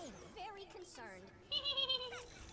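A sheep fired from a sheep launcher in a video game bleats in a couple of short, wavering cries, faint and close.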